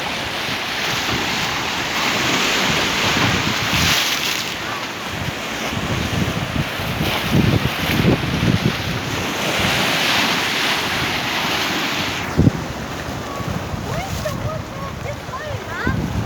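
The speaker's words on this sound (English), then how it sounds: "Look at the waves." Big waves crash at high tide on Salthill Beach in Galway, a loud, continuous surf roar with repeated surges and heavy wind buffeting the microphone, as voices call out faintly.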